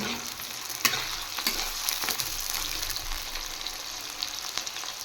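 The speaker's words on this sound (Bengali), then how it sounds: "এবার পেঁয়াজগুলো হালকা একটু ফ্রাই করব।" Onions frying lightly in a pan for a chicken dish, a soft continuous sizzle with occasional stirring clicks and scrapes, fairly quiet and close.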